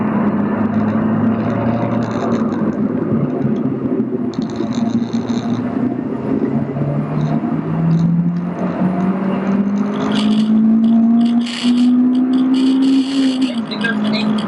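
A Honda Civic EP3 Type R with a K20 engine heard from inside the car under load, a loud continuous drone climbing steadily in pitch as revs rise, then dropping back, with road rumble beneath.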